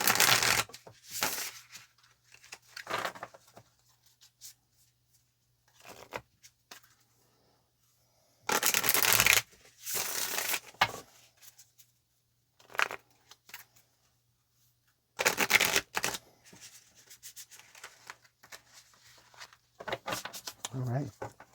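Tarot cards shuffled by hand, with short papery riffling bursts that come and go over a quiet background.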